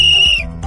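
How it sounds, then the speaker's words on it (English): A cartoon referee blows a whistle at the start of a children's football game: one bright, steady shrill blast of about half a second, loud and close, then fading into low background sounds. "is the referee and blows the whistle"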